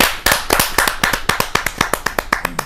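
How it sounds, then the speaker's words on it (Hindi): An audience at a Hindi kavi sammelan poetry gathering claps, a dense burst of loud applause that thins into a few scattered, uneven hand claps, with no talk. "जोरदार ताली के साथ"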